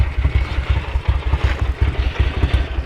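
A Ducati 900SS bevel-drive motorcycle idles very low, its engine throbbing in an uneven, lumpy pulse close by, with no voices over it.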